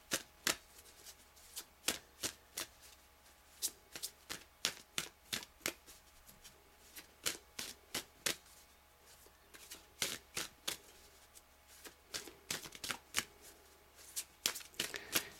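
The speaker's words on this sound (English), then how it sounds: "I'll do a couple more shuffles." Tarot card shuffling, a quick run of crisp riffling snaps and taps repeating steadily throughout, close and clear over a quiet background.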